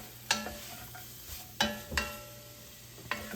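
Cooked meat sautes in olive oil in a pan, with a low sizzle under a few sharp scraping stirs spaced about a second apart, close and without speech.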